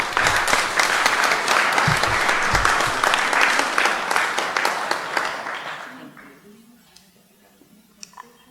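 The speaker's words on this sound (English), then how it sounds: "Let's give them a round of applause." Audience applause fills a city council meeting chamber, a dense sustained clapping that stays loud for about six seconds, then thins out and fades into quiet room tone with a couple of stray claps near the end.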